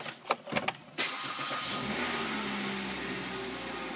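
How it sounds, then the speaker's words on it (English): Kia Venga CRDI 3 Ecodynamics diesel engine cranking and starting up, followed by a steady nearby idle after a few short clicks, with no talk. "If I start the vehicle up,"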